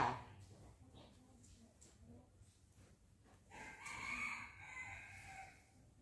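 Chickens cluck softly close by, then a rooster lets out a long crow partway through, over quiet background murmuring.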